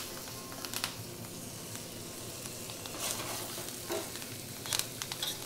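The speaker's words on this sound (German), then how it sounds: "Mit den Kräutern macht es überhaupt nichts, wenn die da mit anbraten werden." Garlic, thyme and rosemary fry in a pan with a steady, close sizzle. Clattering stirring sounds cut in now and then, and no one speaks.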